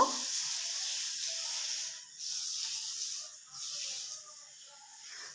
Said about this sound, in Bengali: এখন আমি ডিমগুলো ভালোভাবে ভেজে নিব